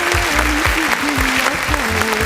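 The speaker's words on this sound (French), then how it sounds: "Acclamons très très fort pour Siméon Mutombo Kalombo." A crowd at Siméon's 30th birthday party applauds steadily and loudly, dense continuous clapping with a voice or music running underneath.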